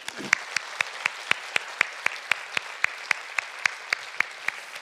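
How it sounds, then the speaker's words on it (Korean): Church service congregation giving a round of applause, heard as a sparse, evenly spaced run of crisp claps, almost like one pair of hands keeping time, fairly quiet against an otherwise silent room. "우리 감사의 박수 드립시다."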